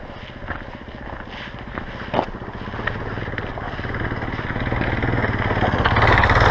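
A Kawasaki KLR650 motorcycle rides with a steady, rumbling engine drone amid wind noise, growing gradually louder and nearer throughout, with a brief sharp knock partway through.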